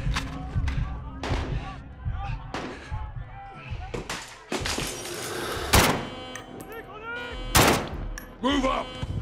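Shotgun fire in Call of Duty: Modern Warfare during a U.S. embassy breach: a string of heavy, punchy blasts, several of them close together, with short gaps between them and game chatter mixed in.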